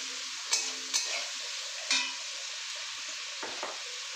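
Chopped ginger frying in a pan in a home kitchen, a soft steady sizzle broken by a few sharp scraping stirs near the start and middle, fairly quiet with no talking.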